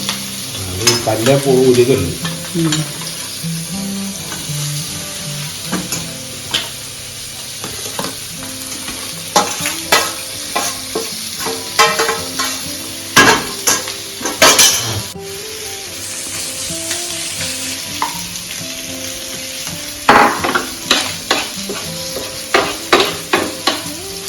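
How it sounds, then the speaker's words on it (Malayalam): Fish frying in a pan at home, a steady sizzle running throughout with scraping stirs and clinks of utensils scattered across it, fairly close and without talk. "നമ്മളത് മീൻ വറുക്കാനിട്ടിട്ടുണ്ട്"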